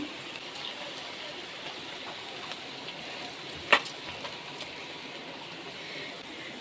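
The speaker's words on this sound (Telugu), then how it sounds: "పకోడీ రెడీ చేసేస్తున్నాను మూడో వేస్తున్నాను" Cabbage pakoda frying in hot oil gives a steady, even sizzle, with one sharp clink partway through.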